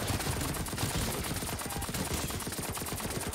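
Rapid, steady bursts of nail gun fire in Call of Duty Cold War Zombies, a dense mechanical rattle that runs unbroken and loud with no pauses or talk.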